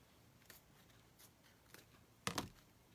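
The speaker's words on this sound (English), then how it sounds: "I'm going to cut my ribbon so that I'm free." Scissors snip through ribbon while a bow is being finished, giving a few faint, quiet cuts followed by a louder double snip close by near the end.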